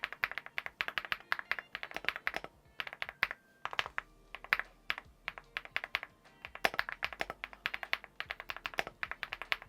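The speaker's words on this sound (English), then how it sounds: "The Huano Blossom Odyssey switches, which I opted for in this model, are absolutely brilliant to use, and they sound awesome as well." Someone types on an Epomaker Galaxy 70 gasket-mounted keyboard with Huano Blossom Odyssey switches, making close, crisp clacking bursts of keystrokes separated by short pauses.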